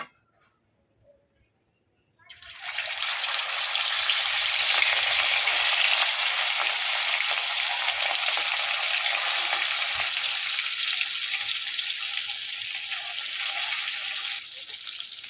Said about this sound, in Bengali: কড়াই তেল বসিয়ে দিয়েছি সর্ষের তেল আমি রান্না করছি